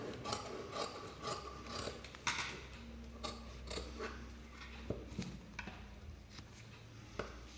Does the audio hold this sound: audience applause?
no